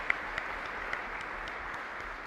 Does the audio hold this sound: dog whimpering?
no